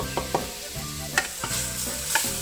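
Chopped carrots, onion and celery sautéing in a soup pot over medium-low heat, a steady low sizzle broken by a few sharp clinks and scrapes of a spoon stirring, close by with no talking.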